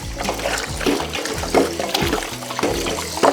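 Running water splashes and trickles steadily, with repeated bursts of sloshing as food is rinsed of lemon, close by and fairly loud, no talking.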